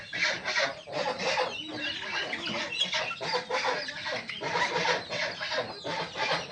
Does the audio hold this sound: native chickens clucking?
yes